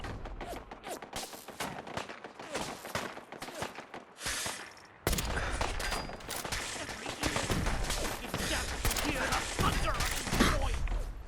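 Automated turrets fire in Fallout 4 during a desolation-mode, permadeath run: dense, rapid bursts of gunfire crackle continuously, dropping briefly before resuming louder and fuller, with a voice heard faintly under the shooting.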